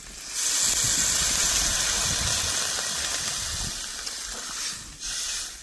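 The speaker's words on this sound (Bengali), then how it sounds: "এবার কিন্তু আমি জল দিয়ে দেব" Water hits a hot pan of potato and pointed gourd curry with chana dal and sets off a loud, steady, steam-heavy sizzle. It hisses continuously for several seconds, eases slightly, then flares again near the end.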